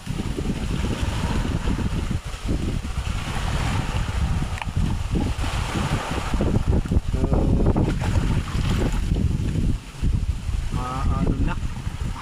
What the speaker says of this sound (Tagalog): Hangin na kasi, mahangin na pati.